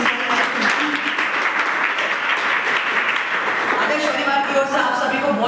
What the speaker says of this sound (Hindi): तो एक बार जोरदार तालियां आप सभी संचालन